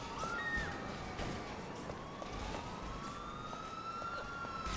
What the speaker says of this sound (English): Well, there's an ambulance.